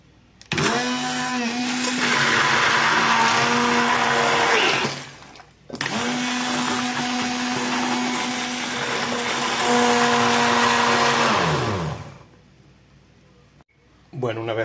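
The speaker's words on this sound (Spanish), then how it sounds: "Y ahora esto lo vamos a batir muy bien, con un chorrito también de aceite de oliva" An electric blender whirs loudly in two long bursts with a brief pause between, mixing egg, yogurt, spices and a splash of olive oil, its motor pitch dropping as each run ends.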